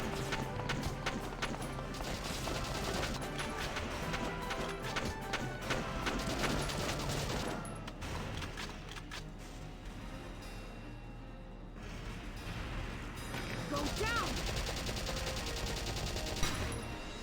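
Gunfire from the video game Valkyria Chronicles, dense bursts of shots and crashes mixed with game music, steady and fairly loud throughout with a brief lull near the middle.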